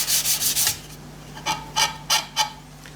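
Sandpaper rubbing over a dried shellac coat in rhythmic rasping strokes: a quick run of four strokes, a pause, then four more spaced scrapes, close and fairly quiet.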